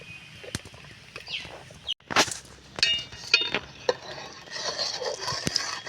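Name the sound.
stirring rice flour mixture in a pot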